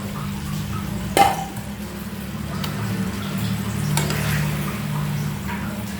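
Food is stirred and mixed in a cooking pan over the heat, with a sharp clink of utensil on metal near the start over a steady low sizzle and scraping.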